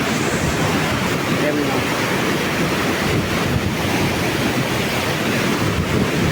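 Water pours from the Masundari dam outlet near the Droneshwar Mahadev temple, a loud, steady rushing roar with constant wind-like noise throughout and no breaks.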